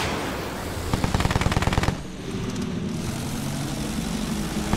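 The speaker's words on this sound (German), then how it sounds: "Feindliches Flugzeug gesichtet!" Enemy aircraft fly overhead in the Battlefield 1 video game on a World War I desert map, with a propeller drone under a rapid machine-gun burst amid loud battle noise.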